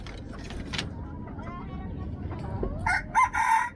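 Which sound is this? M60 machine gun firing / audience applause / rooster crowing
rooster crowing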